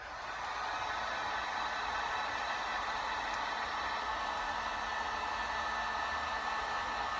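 A heat gun blows steadily while shaping moulded foam chest armour built over hot glue, a constant close, loud airy roar with no breaks for the whole stretch.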